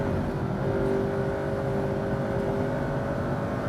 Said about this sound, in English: Whoa, listen to that engine!